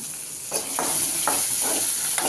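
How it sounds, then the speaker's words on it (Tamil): Small shallots fry in hot ghee as a tempering for sambar, a steady sizzle with a bright hiss running throughout, broken by several soft stirring scrapes close by, with no voices. "அப்படியே தாளிச்சுட்டு ஷாலோ ஃப்ரை பண்ணி சாம்பாரில் கொட்டிடணும்"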